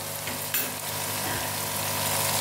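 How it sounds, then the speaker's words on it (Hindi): Whole spices roast in a hot pan for a Kashmiri saag dish, giving a steady close sizzle and frying crackle with a brief scrape of stirring partway through, no talk. "अब इसमें ये भून के इसको ज़रा रोस्ट हो गया है"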